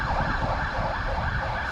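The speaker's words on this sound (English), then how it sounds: "Fire engine." Fire engine siren in the street in Grimsby, a steady wailing tone rising and falling without pause, fairly loud and continuous over road noise.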